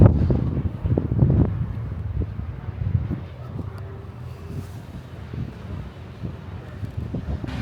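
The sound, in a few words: wind blowing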